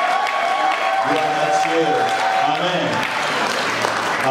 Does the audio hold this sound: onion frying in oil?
no